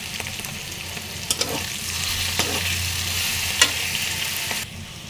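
Leafy greens stir-frying with garlic paste and onion in a pan, a steady close sizzle broken by several sharp spatula scrapes and taps.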